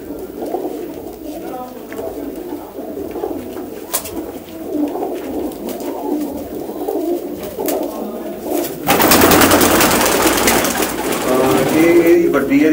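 Pigeons of a prized breed coo in low, throaty repeated calls throughout, mixed with rustling and background chatter, growing louder and denser near the end as people talk nearby.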